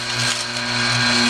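An Omega NC800 slow juicer churns and grinds fennel, giving a steady low motor hum with a faint gritty crunch, close and continuous.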